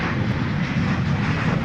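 A jet airliner, a 767, roars steadily as it departs at night from DFW Airport, a broad continuous rumble that stays loud and even throughout with no voices.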